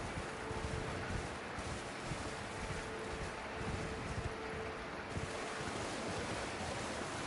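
Steady water ambience in Elden Ring, a broad continuous wash like surf and wind with no voices, even and moderately loud throughout.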